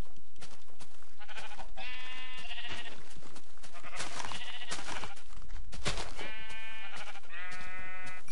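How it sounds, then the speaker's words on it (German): Repeated sheep bleats from Minecraft gameplay, several harmonic calls spread through the stretch amid clicks and in-game noise, with a black sheep appearing. "Ach du Scheiße, ein schwarzes Schaf."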